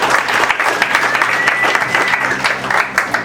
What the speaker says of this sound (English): Let's give a little round of applause to Greg